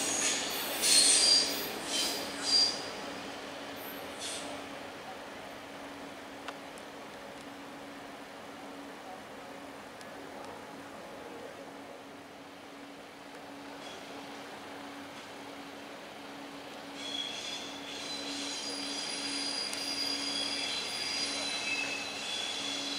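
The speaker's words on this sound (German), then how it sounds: "Ausfahrt der 612er Doppeltraktion Richtung Lindau-Reutin." A DB class 612 diesel multiple unit, two units coupled, departs a station toward Lindau-Reutin. Wheels squeal faintly at a distance and a low engine rumble carries through, with higher screeching rising again near the end.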